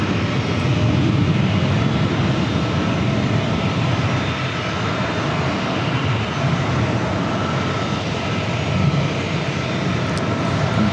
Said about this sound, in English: There's an F-18 taking off.